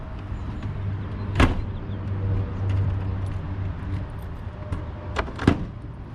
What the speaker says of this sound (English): all that's left to do is fold the stairs in and shut the door